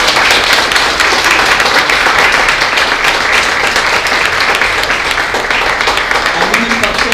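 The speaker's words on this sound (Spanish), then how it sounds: "¿Cuánto le dais aplauso al Señor?" A church congregation applauding during a sermon, a loud, dense, sustained wave of clapping that fills the space without pause.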